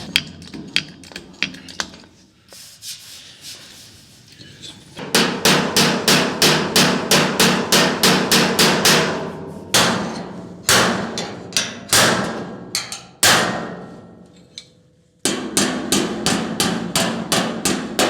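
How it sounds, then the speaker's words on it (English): Sharp hammering on car wheel well sheet metal comes in several quick bursts of steady blows separated by brief gaps, loud and close. "I'm going to hammer it down a little bit."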